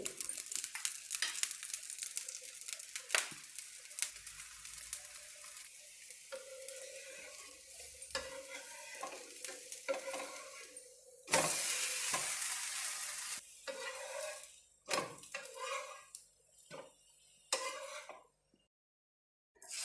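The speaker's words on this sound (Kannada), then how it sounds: "ಈಗ ಸ್ವಲ್ಪ ಎಣ್ಣೆ ಹಾಕ್ಕೊಳ್ತೀನಿ ದೋಸೆ ಮೇಲೆ" Ragi dosa, made from finger millet flour with cucumber and coconut, sizzles in oil on a pan: a steady close crackle with bursts of scraping and stirring, swelling loudly midway, then trailing off into a few short hisses and near silence.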